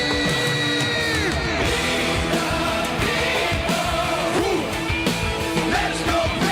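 A crowd at a political rally screams and cheers, a dense, steady roar of many voices with yells and whoops, loud throughout.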